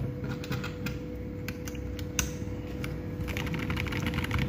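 Typing on a KBD67 Lite keyboard fitted with Gazzew Boba LT linear switches, a quiet, soft run of muted keystrokes at close range with a steady low hum behind it.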